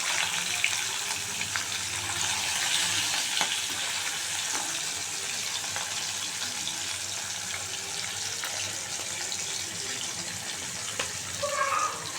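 Hilsa fish fries in a pan of oil, giving a steady, close hiss and crackle that runs unbroken throughout, with a few brief clinks near the end.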